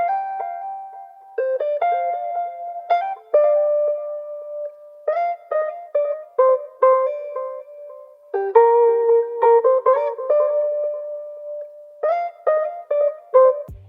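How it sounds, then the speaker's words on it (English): Vibey guitar in a beat, clean picked single notes and short chord stabs with a ringing, sustained tone, a slow and sparse melodic phrase heard alone and up close. "So I added this vibey guitar"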